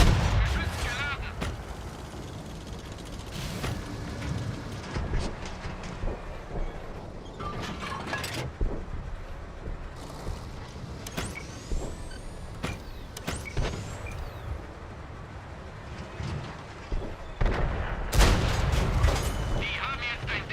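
A tank cannon in a Cold War combat video game fires several sharp, loud blasts over a constant engine rumble and battlefield noise, with brief voice callouts in between.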